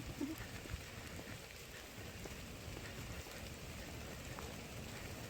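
Steady heavy rain pours down over rice fields in a dense, continuous hiss, drumming on a nearby surface without letup.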